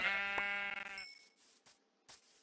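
A Minecraft sheep gives one clear, wavering bleat lasting about a second, close and fairly loud, followed by faint soft clicks and quiet game sounds.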